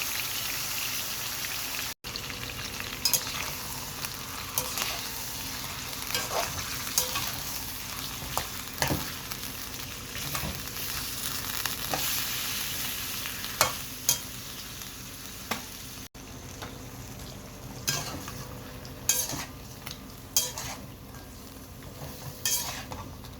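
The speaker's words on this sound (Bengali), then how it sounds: "তেলটা গরম হয়ে আসলে অ্যাড করবো চিকেনগুলো আমি প্রথমে চিকেনগুলো ভেজে নেব" Chicken fries in hot oil with a constant crackling sizzle, punctuated by stirring scrapes and metallic clinks of a utensil against the pan, close and fairly loud.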